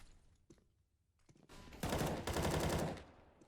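Rapid spam gunfire in CS:GO: a short, dense burst of automatic shots that swells after a quiet stretch and holds for about a second and a half, fairly faint and distant, with no talk.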